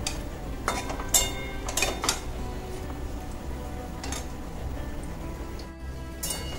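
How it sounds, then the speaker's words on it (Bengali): Pumpkin curry being stirred in a pan with a spoon, giving a steady run of scraping and clinking strokes with a few sharper metallic knocks against the pan, close and alone without talk. "দিয়ে কুমড়োর তরকারিটা আবার ভালো করে নেড়ে দেব"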